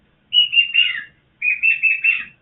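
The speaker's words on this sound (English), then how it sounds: "You want to hear the bird whistle a little bit?" A pet bird whistles two clear, close, bright phrases, each made of a few quick warbling notes, separated by a short pause in an otherwise quiet room.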